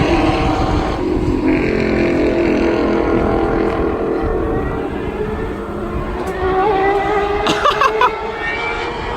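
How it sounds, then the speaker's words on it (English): A formula race car running on a track with other cars, a loud sustained engine roar with rising and falling pitch as it passes, plus brief clatter near the end. "Formula car on the track with everybody else"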